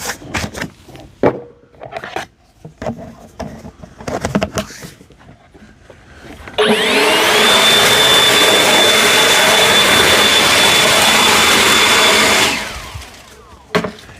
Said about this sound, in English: Now let's try the tapered nozzle.